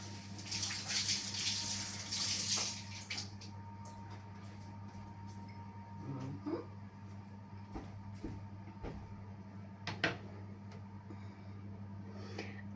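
Running tap water splashes loudly for the first few seconds as an eggshell is rinsed, then fades to faint clinks and handling sounds over a steady low hum, with no talk.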